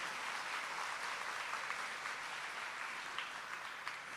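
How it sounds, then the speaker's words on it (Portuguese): A church congregation applauds in a dense, continuous wash of clapping, steady and sustained, heard from a little distance. "vamos aplaudir a palavra? Bem forte, bem forte, bem forte, bem forte"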